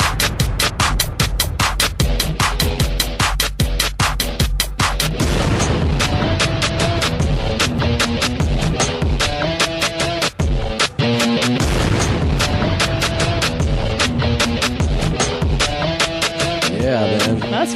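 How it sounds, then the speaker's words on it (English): Dense, loud booms and crashing blasts pound continuously over driving music in a comedy podcast intro, a relentless barrage of explosion-like hits. "That's quite an explosive intro."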